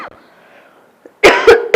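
A person with a cold gives three sharp, harsh coughs in quick succession, close and loud, following a stretch of near silence.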